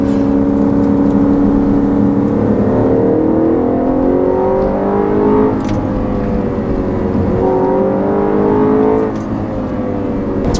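A loud 2013 Audi RS5 engine revs hard through the gears, pitch climbing then dropping at each shift, continuous and close.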